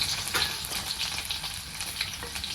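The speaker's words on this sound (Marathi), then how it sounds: "जिरी मोहरी छान तडतडली लसूण टाकलेली" Garlic sizzling with cumin and mustard seeds in hot oil, a close, continuous crackling fry with quick spattering pops and light stirring scrapes throughout.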